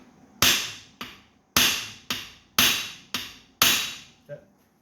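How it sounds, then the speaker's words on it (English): Sharp metallic hammer blows on a flywheel puller, removing a Waverunner flywheel, ring out seven times in an uneven rhythm, each strike loud and close with a short decaying ring. "hit it with a hammer"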